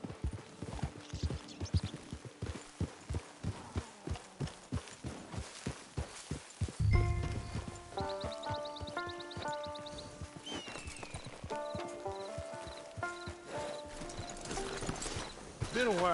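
Horse hooves clip-clop in a steady walking rhythm in Red Dead Redemption 2, then stop as game music, chimes and soft ambient sounds take over, with a whinny-like call near the end.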